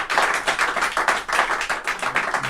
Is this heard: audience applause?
yes